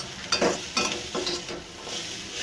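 Onion, tomato and green chilli with salt are stirred in a frying pan, a few distinct scraping strokes of the spoon sounding over a steady close sizzle.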